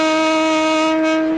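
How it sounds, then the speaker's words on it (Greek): A train whistle blows loud and steady, a single sustained tonal blast with rich harmonics lasting the whole short moment. "Σφύριξε το τρένο."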